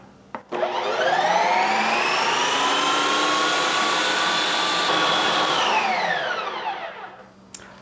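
A Ninja Creami Deluxe NC501 ice cream maker spins a container of lite ice cream made with milk and half and half, giving a loud, steady motorized whir that ramps up after a click, holds for about five seconds, then winds down.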